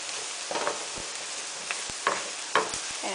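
Onions with turmeric sizzle steadily in a pan, a soft continuous frying hiss broken by a few dull knocks and scrapes of stirring.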